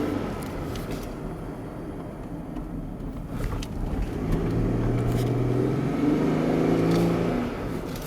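A 2005 Pontiac Aztek Rally Edition crossover SUV pulling away at part throttle, its engine hum rising steadily in pitch and loudness over road and wind noise, heard from inside the vehicle with no one speaking.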